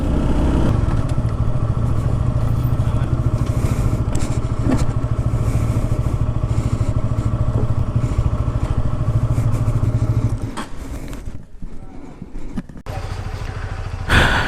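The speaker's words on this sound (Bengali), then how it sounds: "এভাবে কেউ বাইক চালায় বলেন?" A Honda motorcycle on a road ride, its engine droning loud and steady close by with wind rush, then easing off near the end before picking up again.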